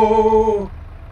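A Liaz 6212.70 bus in OMSI 2 gives a sustained tonal brake hiss that fades out after about half a second, loud and alone.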